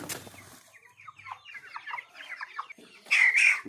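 Forty-day-old chickens cluck and murmur close by in short bursts as one is caught by hand, ending in a louder squawk.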